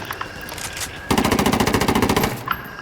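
Sustained automatic gunfire from the video game Ghost Recon Wildlands: a rapid, even burst of loud shots running for well over a second, preceded by quieter scattered game sounds.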